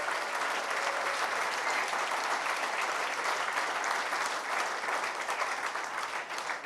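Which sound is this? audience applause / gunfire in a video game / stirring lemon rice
audience applause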